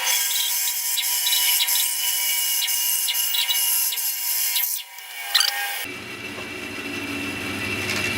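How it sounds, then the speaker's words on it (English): A bandsaw trims the corners off a round wood blank for a turned cactus planter, giving a steady high whine with a rhythmic ticking that cuts off abruptly, followed by the motor winding down. "I'm just going to quickly trim off the corners"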